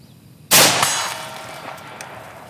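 A single loud AR-15 rifle shot rings off a steel target outdoors, a sharp sudden crack followed by a long metallic ringing decay.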